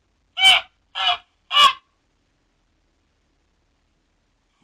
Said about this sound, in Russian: Гусь.